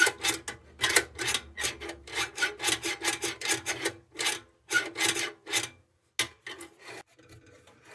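Metal filing on the mechanism of a RAYO No.100 kerosene lantern, a close series of quick rasping strokes in an uneven rhythm that thin out and pause toward the end, with no voices.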